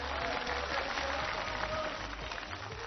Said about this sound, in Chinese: 掌声请出我们的队长和队员们